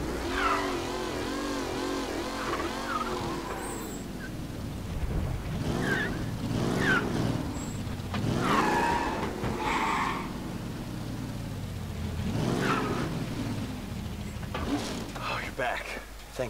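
Car engine from Mafia Definitive Edition, an old jalopy-like vehicle, droning and revving steadily throughout, with someone talking over it at intervals.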